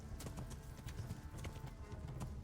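Horse hooves clip-clop at a quick, uneven pace in Kingdom Come: Deliverance, a run of sharp close strikes that keeps going throughout with no voices over it.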